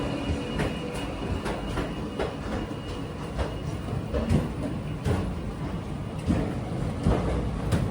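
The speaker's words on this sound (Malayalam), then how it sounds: "ചെങ്കൽപ്പട്ടു ചെന്നൈ ബീച്ച് ലോക്കൽ ട്രെയിനാണിത്." A Chengalpattu–Chennai Beach local train rolls past with a steady rumble, sharp rhythmic clicks and clatter from the rails repeating throughout, close and fairly loud, with no voices.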